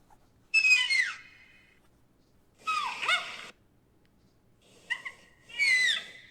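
Raccoon giving short chirping, warbling calls in three separate bursts with quiet gaps between, fairly close and clear, no talking.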